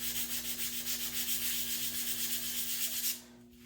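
Rhythmic back-and-forth rasp of sandpaper on a wooden guitar body, close and steady for about three seconds before stopping, over a low hum.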